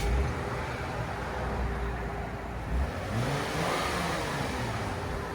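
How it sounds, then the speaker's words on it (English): A 2014 Lexus IS 250 with its stock 2.5L V6 exhaust hums at a fairly quiet idle, then rises in a couple of brief revs near the end, heard alone from nearby. "2014 Lexus IS 250. This is what it sounds like before."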